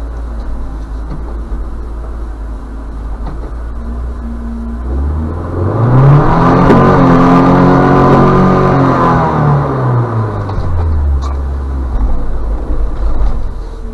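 UAZ Patriot driving on bare ice while towing a Mitsubishi: loud, close engine drone that rises in pitch as it revs, holds, then falls away over steady background rumble.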